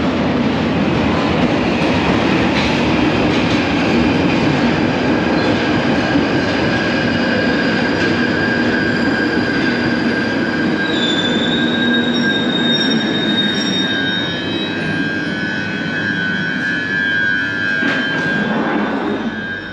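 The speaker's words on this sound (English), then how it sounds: "Train was the Edgware train." London Underground Northern Line train pulling into a station, with a loud continuous rumble of the carriages, high-pitched wheel squeal and rail clatter running throughout, close by and with no voices.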